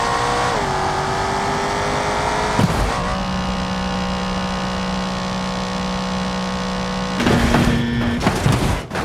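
A McLaren supercar in the driving game BeamNG, its engine note droning steadily at high revs, shifting pitch as it changes gear, with a louder burst of revving near the end and no talk.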